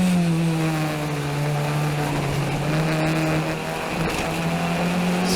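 A race car engine during a street race in Montreal, suffering oversteer problems, holds a loud, steady droning note close up with small pitch shifts and a brief dip, running continuously with no talk.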